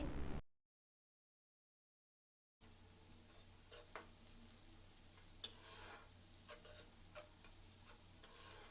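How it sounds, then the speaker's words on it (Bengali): Chopped garlic, ginger, onion, green chilli and peas fry in a pan for fried rice, giving a soft, steady sizzle with occasional stirring clinks and scrapes after a brief silent gap; no voices. "এখানে আমি অল্প পরিমাণের রসুন আর আদা কুচি ভালো করে ভেজে তারপর আমি এখানে পেঁয়াজ আর কাঁচামরিচ ভেজে নেব"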